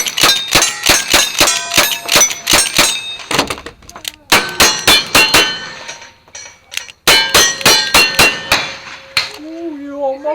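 Rifle and pistol shots at a Halloween match, the steel targets ringing back in fast clusters of loud sharp clangs with short pauses between strings, single taps and double taps, and a faint voice at the very end.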